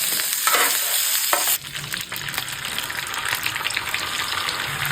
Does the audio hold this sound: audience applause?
no